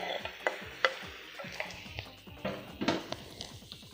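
Tomatoes are added to vegetables and mushrooms cooking in a pan for a vegetable pasta dish, with a spoon scraping and stirring against the pot. A soft sizzle runs under several sharp clinks and scrapes, and the sound is close and fairly quiet.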